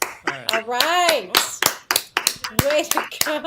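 Several people clap in scattered, uneven bursts while voices, including a child's, talk and call out over them nearby.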